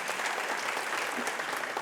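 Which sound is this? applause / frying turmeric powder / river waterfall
applause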